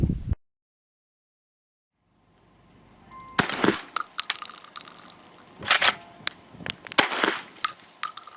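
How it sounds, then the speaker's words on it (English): Ringfire less-lethal shotgun from SRM firing beanbag rounds: after silence, a sharp loud report at about three seconds, then a series of further sharp cracks and clacks of the action cycling, close and alone. "We're going to load 2 Ringfire rounds and 1 standard lethal round into SRM's Ringfire shotgun."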